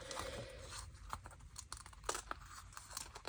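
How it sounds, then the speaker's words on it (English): A blade cuts through the worn spine of an old pocket book, giving soft crunching and tearing crackles in short irregular bursts, close up and quiet. "So I'm just going to gently cut that off."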